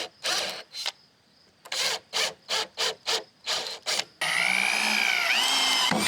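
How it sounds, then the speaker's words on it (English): Power drill driving a bit into a steel screw on a trailer rebuild, with a series of short whirring bursts followed by a sustained grinding whine that rises and bends in pitch, close and fairly loud. "Wonder if I just put that bit in this drill."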